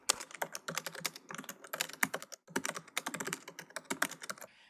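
Fast, close clicking of keys on a computer keyboard as a Wi-Fi name and password are typed, with irregular bursts and one short pause.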